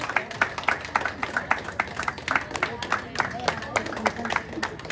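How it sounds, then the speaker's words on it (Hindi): Scattered clapping from an audience at a studio opening ceremony, irregular and moderately close, continuing for several seconds as voices talk over it. "जोरों तालियां हो जाए प्लीज"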